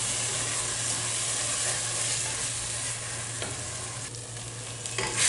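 Egg masala for egg biryani frying in a pan, a dense close sizzle with scraping stir strokes throughout, the sizzle easing slightly toward the end, no talk.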